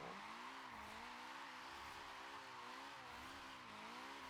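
A drift car's engine drones steadily nearby, its pitch wavering up and down as the driver lifts off the throttle and gets back on it, with no talking.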